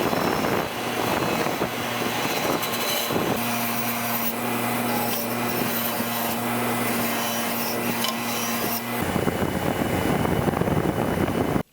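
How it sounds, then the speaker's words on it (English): A wire wheel on a bench grinder cleans metal spikes for a scrap-metal sculpture, giving a loud, steady whirring hum with harsh scratchy rasping that runs continuously for several seconds, close up and without talk. "Let's start with cleaning spikes on the wire wheel on the bench grinder."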